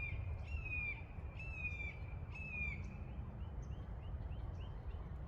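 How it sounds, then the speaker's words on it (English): A crow caws three times in a steady rhythm, fairly close and clear, then gives fainter follow-up calls over a constant low background rumble. "Stop it, bird."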